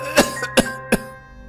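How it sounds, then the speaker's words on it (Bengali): Three coughs from a cartoon character, evenly spaced over about a second, over a faint steady hum, with no talk in between. "তুই অমন করে কাশছিস কেন আজ? ঠান্ডা লাগিয়েছিস নাকি?"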